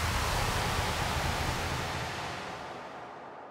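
Broad hiss of analog white noise from the Vital software synthesizer with plenty of low rumble, loud and steady before slowly fading out.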